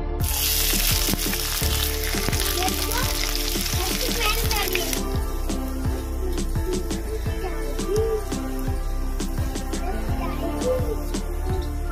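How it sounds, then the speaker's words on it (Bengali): Sliced onions deep-frying in oil for birista give a loud, continuous close-up sizzle with crackling pops. A spoon stirs now and then, and a few faint voices are heard in the background. "আমি এই তেলের মধ্যে পেঁয়াজের ব্রেস্তা বানিয়ে নেব।"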